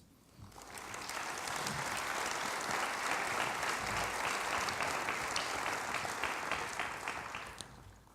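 Warm audience applause at a national health convention in Lisbon, clapping swelling in after a quiet start, holding a full steady level, then fading near the end.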